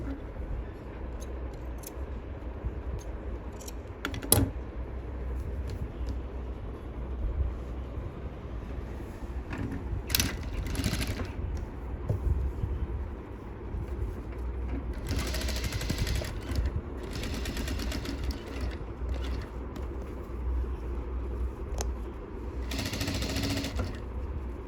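Sewing machine stitching a sleeveless blouse with a keyhole opening, a continuous close mechanical whirring hum, with several short faster bursts and small clicks along the way.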